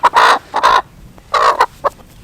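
A young pullet, not yet laying, gives several short close clucks in quick uneven bursts, loud and clear against a quiet background.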